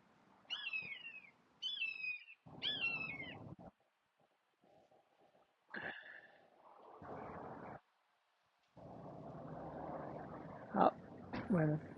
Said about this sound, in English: I can hear a couple of hawks hovering over my head